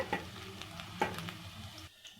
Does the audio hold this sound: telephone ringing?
no